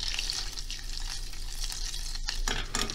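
Dried peppers frying in butter for lentil soup, a dense continuous sizzle and crackle in a pan with occasional stirring scrapes, close and steady throughout.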